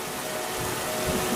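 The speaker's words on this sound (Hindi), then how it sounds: "कुछ दिनों बाद बहुत तेज बारिश होने लगी" Heavy rain falls steadily in a dense, continuous hiss that builds slightly toward the end, with no voices over it.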